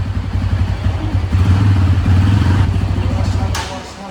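A Bajaj Pulsar N160 motorcycle runs close by and is given light, gentle throttle blips; its pulsing engine note swells a little and then eases back before fading slightly at the end.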